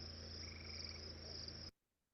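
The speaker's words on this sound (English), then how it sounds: "Next one is a gray tree frog." A gray tree frog gives a single steady trill, close and clear, holding for about a second and a half before stopping abruptly into silence.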